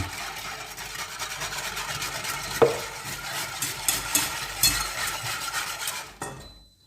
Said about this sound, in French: dans le sucre, je rajoute le reste du lait, c'est-à-dire les 450 g. Je mélange.